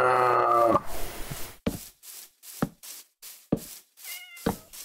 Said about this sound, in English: I think that cat wants me to tame it.